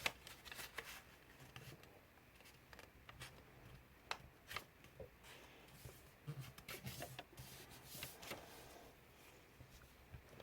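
Paper being folded into an origami sphinx, with soft crinkles, rubs and sharp creasing swipes in an irregular run, close and quiet.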